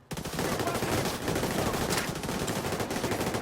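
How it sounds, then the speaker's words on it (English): Dense, continuous automatic gunfire in The Division 2 video game, a loud sustained burst of rapid shots lasting the whole stretch without pause. "Firing on hostile!"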